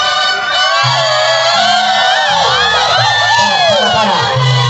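A crowd in Cancún answers mariachi music with loud ranchero gritos, whoops and cheers, a dense, continuous roar of many voices over low, pulsing music.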